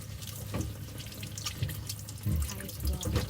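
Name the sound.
washing celery under running tap water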